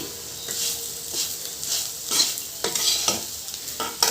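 Ivy gourd pieces fry in oil with salt and chili powder while being stirred, giving a steady close sizzle broken by several scraping strokes of a spatula against the pan.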